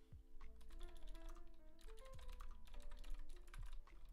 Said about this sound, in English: if you couldn't tell by my keyboard, I'm borrowing another keyboard.